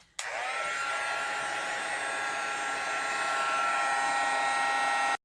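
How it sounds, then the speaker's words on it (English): A heat tool drying watercolor paint in a journal runs close and loud, starting abruptly and holding a steady whirring blow with a high whine for about five seconds, then cutting off. "I'm just going to hit that with a bit of heat and dry it down a bit"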